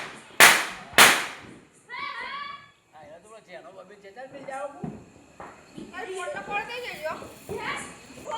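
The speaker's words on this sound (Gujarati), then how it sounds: "અગરબત્તી ટેટા ફોડશું." Two sharp, loud Diwali firecracker bangs in quick succession, set off with an incense stick, followed by excited children's and adults' chatter.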